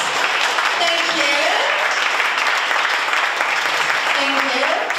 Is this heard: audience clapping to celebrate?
yes